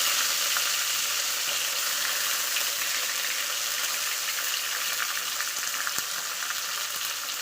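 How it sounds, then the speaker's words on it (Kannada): Onion and tomato fry in a pan for a North Karnataka kadale palle dish, giving a steady, close sizzle and crackle that holds evenly throughout with no talking. "ಉಳ್ಳಾಗಡ್ಡಿ ಟೊಮೆಟೊ ಸ್ವಲ್ಪ ಹೊತ್ತು ಫ್ರೈ ಮಾಡ್ತೀನಿ."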